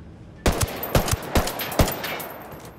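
Gun turret firing in Ghost Recon Wildlands, four loud, sharp bursts spaced roughly half a second apart after a brief quiet start, each with a short echoing tail.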